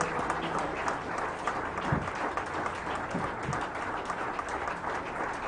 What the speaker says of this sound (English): Please let's keep clapping until he comes